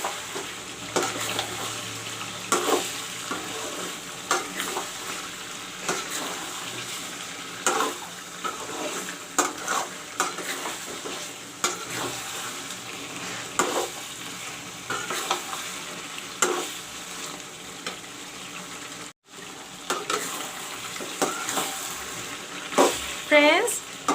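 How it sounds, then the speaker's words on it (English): Marinated chicken sizzles and crackles steadily in hot oil with masala, with intermittent stirring scrapes and clatter throughout. "the chicken is frying. You can see the oil also has come up."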